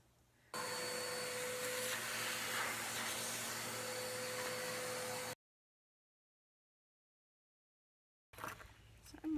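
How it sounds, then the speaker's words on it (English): A vacuum cleaner sucks up sawdust from cabinet corners, running steadily with a loud whooshing drone for several seconds, then cuts off to silence before a brief burst of noise. "now I'm just going to vacuum up all the sawdust to get it out of the corners"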